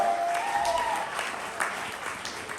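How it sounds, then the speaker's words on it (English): A poetry slam audience in Atlanta keeps up loud, sustained applause, a thick uninterrupted patter of many hands with a few voices calling out briefly near the start. "keep that applause going"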